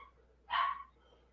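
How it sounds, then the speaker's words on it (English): A single short dog bark sounds indoors at a drywall renovation site, a clear mid-pitched burst lasting about a third of a second against a quiet room background. "There's my dog."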